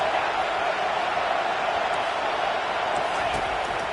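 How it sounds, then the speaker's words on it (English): A stadium crowd in a college football video game, LSU against Ohio State, makes a dense, steady roar that never lets up, loud throughout. "This crowd trying to make life miserable for this offense."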